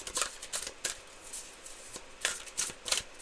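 A deck of tarot cards is shuffled by hand in quick riffling bursts, several short rustling clusters spaced across a few seconds, close and fairly soft with no talk.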